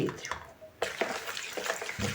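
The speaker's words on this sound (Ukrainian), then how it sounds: "Тут у мене 300 мл молока, вливаю десь так 100 мл." About 100 ml of milk pours into a bowl with a wet splashing rush, broken by a few soft knocks of the container, close and fairly quiet.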